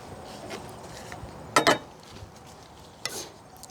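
Pickled mustard greens with sliced ginger and Thai chili are gently mixed by hand, giving soft, moist, rustling squishes with two brief louder clusters of handling noise against quiet background.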